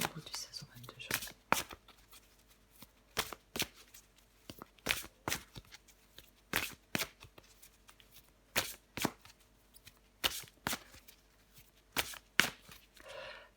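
Tarot cards are drawn, flipped and handled in a quiet room, giving crisp repeated snapping and shuffling flicks in irregular bursts, close and fairly soft, with no talking.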